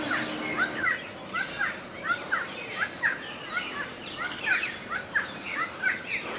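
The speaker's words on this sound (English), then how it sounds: "this place is just alive with birds" Birds call repeatedly around Kuranda village in the Daintree rainforest, with bright chirps and chattering calls, some harsh crow-like caws, recurring in quick bursts over a steady background hum, moderately near and loud.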